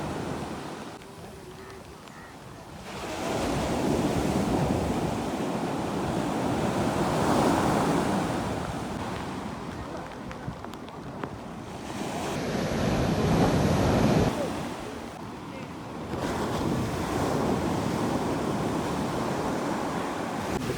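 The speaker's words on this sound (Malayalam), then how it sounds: "നല്ല ശക്തമായ തിരയിലാണ് കേട്ടോ നാലഞ്ച് ചേട്ടന്മാര് വല വീശണത്" Strong sea waves breaking on Munambam beach, where several men cast nets for mud crabs; loud, continuous surf rises and falls in heavy swells, with wind buffeting the microphone throughout.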